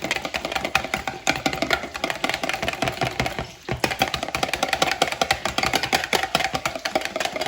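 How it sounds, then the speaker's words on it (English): A Dijon mustard, white vinegar and olive oil vinaigrette is whisked briskly in a bowl, a rapid, continuous clicking and scraping rhythm heard close up, with a brief pause midway. "and just give it a wee whisk."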